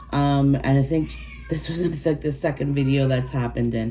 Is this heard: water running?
no